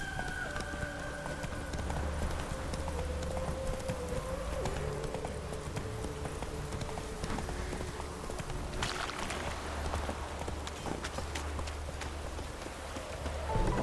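Roach, the horse in The Witcher 3 video game, gallops with a steady, fast clip-clop of hooves over a continuous rain-like hiss, sustained throughout and moderately close.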